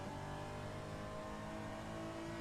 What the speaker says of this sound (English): We are right on board with him in this Porsche Cayman.